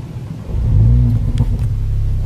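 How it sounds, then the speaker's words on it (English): A Mercedes-Benz A45 AMG engine cranks and fires up at a push-button start close by, surging into a brief rev with a crackle before settling into a deep, steady idle rumble. "we press this and the engine comes to life"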